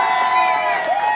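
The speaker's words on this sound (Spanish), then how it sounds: "Quiero que reciban con un fuerte aplauso al señor Gerardo Bedoya" Studio audience at a Colombian comedy talk show cheering and whooping for a former football player as he comes on, a dense, loud crowd roar with high shouts that holds steady throughout.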